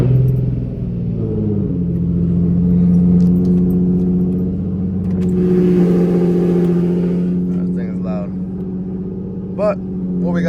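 A Nissan 350Z engine cold-starting: a loud, steady low idle rumble with strong harmonic drone that holds throughout, close by, with a voice briefly speaking over it.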